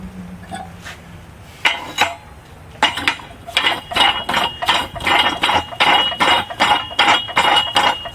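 A manual tire changer being lowered and tightened, a quiet start giving way to a steady run of loud metallic clanks and ratcheting clicks in a regular rhythm, close by.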